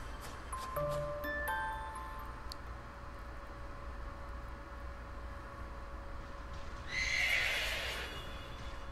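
A horse neighs in Pokemon Sword's Crown Tundra, a loud bright whinny near the end following a stretch of quiet ambient game tones with a few soft chimes early on.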